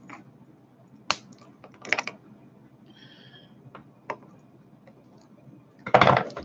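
Coil leads on a vape atomizer, a Warrior RDA, are snipped with cutters, giving several sharp isolated clicks spread apart over quiet background, the last a louder double snip.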